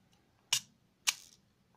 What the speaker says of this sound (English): we release the shutter